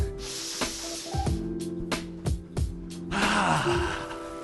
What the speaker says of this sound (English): a couple more deep breaths